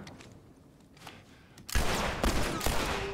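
Gunfire in The Last of Us, with a quiet stretch and then a loud, close burst of sharp shots and clatter at about the halfway point.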